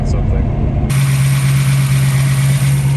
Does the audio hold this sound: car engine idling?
yes